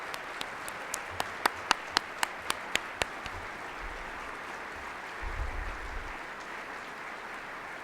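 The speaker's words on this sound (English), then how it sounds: "to give them a big round of applause" Crowd applause as a steady wash of clapping, with a few sharp individual claps standing out early on, heard from a moderate distance.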